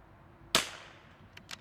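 One sharp crack of a .22LR rifle firing Eley ammunition outdoors, followed by a fading tail and two faint distant ticks, with no talking.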